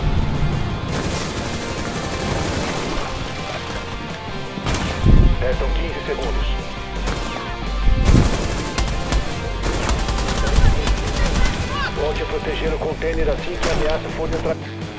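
Gunfire aimed at a window in Rainbow Six Siege: rapid bursts of shots with sharp cracks and smashing impacts that run across the whole stretch, mixed with game sounds and players talking.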